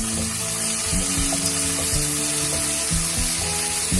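Onion and corn fry in a pan with a continuous soft sizzle under a steady background hum, heard close and fairly even throughout.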